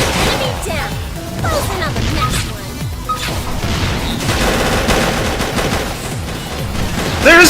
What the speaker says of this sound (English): all the gunfire